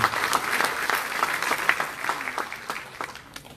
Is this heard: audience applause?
yes